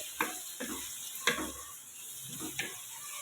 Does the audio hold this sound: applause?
no